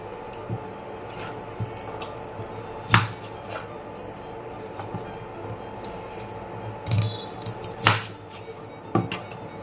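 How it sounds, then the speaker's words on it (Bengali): Knife chopping garlic, ginger and onion on a board in a home kitchen while babycorn boils, sparse sharp cuts spaced a few seconds apart over a faint steady background hum. "ততক্ষণ আমি এটার রসুন, আদা আর পেঁয়াজ এগুলো আমি কেটে নিচ্ছি।"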